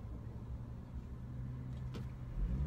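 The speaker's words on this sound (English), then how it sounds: "let me concentrate on my driving for a second" Low, steady interior road rumble from a moving car, quiet and continuous with a brief knock near the end, and no one speaking.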